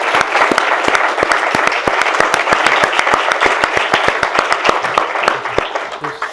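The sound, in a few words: audience applause for Harry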